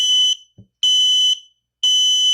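An X-Sense WiFi smoke detector's 85-decibel test alarm sounds in three loud, piercing bursts, each about half a second long, separated by short silences.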